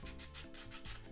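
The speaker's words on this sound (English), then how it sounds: "Just sanding." Sanding by hand during an at-home painting session: close, rhythmic rubbing strokes, about three back-and-forth passes with a gritty rasp, clear and alone.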